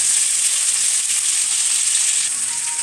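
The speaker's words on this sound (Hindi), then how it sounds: "ये देखिए 5 मिनट इसको हम फ्राई होने देंगे।" Carrots fry in a pan with a loud, steady hiss and crackle of hot oil, close and continuous with no voices.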